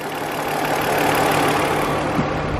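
A BMW E46 323ci, repaired after a misfire fault and a fuel fault, idles with a steady, even engine hum that stays loud and constant, with no voices.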